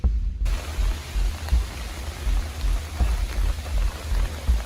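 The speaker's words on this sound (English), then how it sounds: "So it's starting to rain" Steady rain pours down beside a New York river or creek, a dense continuous hiss with heavy low rumble, close and loud throughout, no voices.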